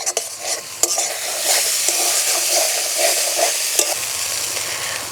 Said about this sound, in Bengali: মশলা একটু নাড়াচাড়া করে ভেজে নেব।